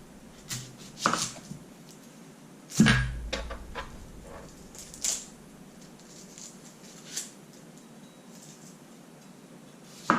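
Knife slicing through red onions on a board during vegetable wrap prep, a few sharp irregular cuts and one heavier thunk spaced across a quiet kitchen, with no talking.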